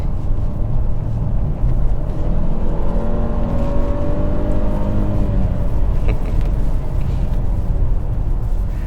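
A 2022 Mercedes GLE350 4matic SUV accelerates hard in sport mode, heard from inside the cabin. The engine note climbs steadily while the gear is held, then drops at an upshift over continuous road rumble.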